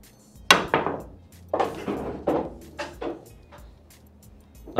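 A pool cue fitted with a Horo jump/break tip strikes the cue ball in a jump shot over an object ball. A sharp clack is followed by several bouncing clicks on the table, then another hard strike near the end.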